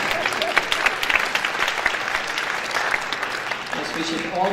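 An audience at a public talk claps steadily, a dense wash of hand claps filling the room, with a voice speaking over it.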